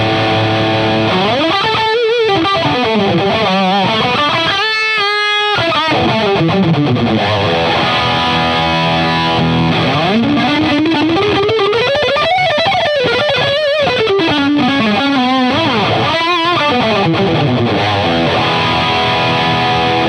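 Electric guitar through a Marshall DSL20CR amp with a volume pedal, playing loud, continuous, effected melodic lines with bends and sustained notes, the level held steady throughout.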